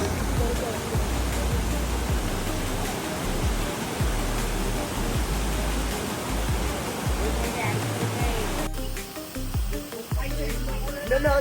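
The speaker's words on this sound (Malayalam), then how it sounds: "പിന്നെതാ വെള്ളച്ചാട്ടം കണ്ടില്ലേ" A steady, broad roar of a waterfall near Murugan hill in Kanthalloor, heard during a jeep safari, fills the whole stretch with faint voices mixed in and a shift in tone near the end.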